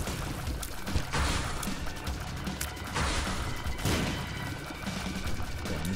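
Rapid automatic gunfire and explosive bursts from The Binding of Isaac: Afterbirth, a dense continuous barrage with heavier blasts recurring every second or so, loud throughout with no talking.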